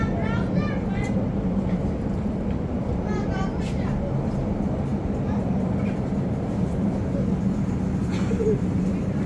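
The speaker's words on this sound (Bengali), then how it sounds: "তো আমাদের ট্রেন চলে আসছে।" An Italian local train pulls in at the station in Lierna, north of Milan, a steady loud rumble of wheels and carriages running through the whole stretch, with voices talking over it.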